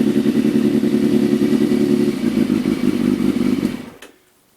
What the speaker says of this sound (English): So we'll turn the bike off now.